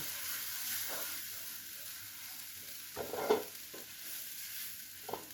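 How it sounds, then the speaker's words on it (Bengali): Spice masala, thickened with besan, fries in a pan for a chhana bharta side dish, giving a soft, steady sizzle with a few louder stirring scrapes near the middle and end. "মশলাটা যখন ভালো ভাজা ভাজা হয়ে যাবে"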